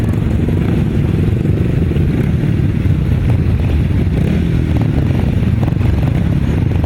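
Grasstrack racing sidecar motorcycles idling and revving at the start line, a continuous loud, rough engine drone with clattering over it and no break.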